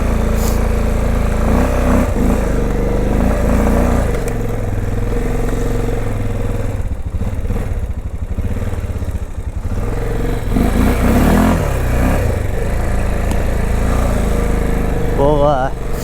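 A 2005 Honda Rincon 650 4x4 ATV driving through snow, its engine droning loudly and steadily with rev changes and some clatter, while someone talks over it.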